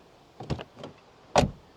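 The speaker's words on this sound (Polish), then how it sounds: "dźwięk otwierania i zamykania drzwi" A 2021 Jeep Wrangler 6.4 HEMI door: a couple of quick latch clicks and mechanical rattles, then after a short pause one solid thunk as the door shuts, close and fairly quiet.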